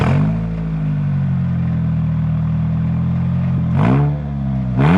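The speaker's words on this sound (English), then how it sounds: "Luckily, even though being straight pipe just a one muffler, it is pretty quiet." A Mitsubishi Lancer Evo 1 with a small turbo and a straight-pipe exhaust with a single muffler idles loud and close with a deep, steady drone, then blips the throttle twice, the pitch rising and falling each time.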